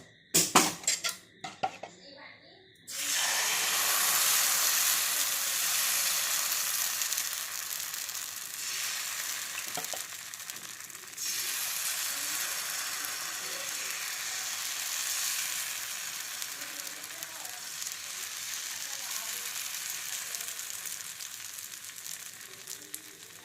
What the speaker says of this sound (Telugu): ఇప్పుడు అట్టు వేసుకుందామండి.